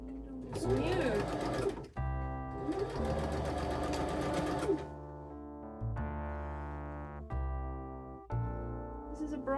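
A sewing machine stitches the lining of a pencil skirt in several bursts, with a humming motor and rapid needle chatter broken by short pauses.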